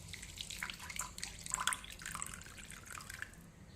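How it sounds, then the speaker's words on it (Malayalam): Water poured from a mixer jar into an iron pan for a homemade natural hair dye, a steady close splashing trickle that runs throughout and thins out near the end. "ഇനി നമുക്കിതിലേക്ക് കുറച്ച് വെള്ളം കൂടി ഒഴിച്ചു കൊടുക്കാം കേട്ടോ."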